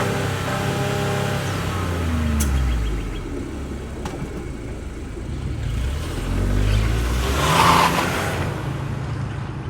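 A 2024 Chevrolet Trax's 1.2-liter turbo three-cylinder engine idles with a steady low rumble, then revs up twice in rising, throaty bursts before settling back, heard up close and alone.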